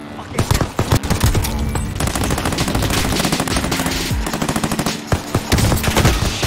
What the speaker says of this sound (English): I'm pistol killing everybody right now.